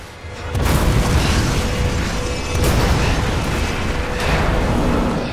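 A loud explosion in the video game Resident Evil 2: a heavy booming blast that erupts suddenly and rolls on as a dense, sustained rumble with a second surge partway through.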